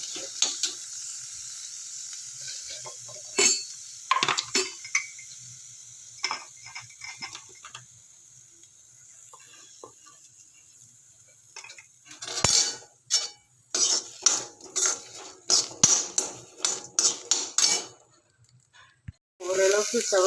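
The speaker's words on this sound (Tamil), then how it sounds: "சின்ன வெங்காயத்தை போட்டு நல்லா வதக்கணும்." Small onions with salt sauté in a pan for tomato chutney, with sparse scrapes and crackles early on that build into busier bursts of stirring and sizzling later.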